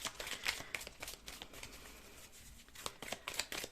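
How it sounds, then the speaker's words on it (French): Tarot cards are shuffled by hand in quick, soft riffles and flicks that come in uneven bursts. The sound is close but quiet, with no talking. "Alors, je mélange."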